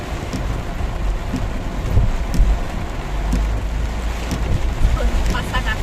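Heavy rainstorm in Diadema, Brazil, a dense continuous hiss of downpour with gusting wind and occasional splashes and knocks, loud and close, with faint voices in the background.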